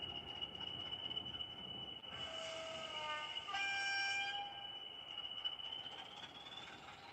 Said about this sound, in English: We'll get this train running again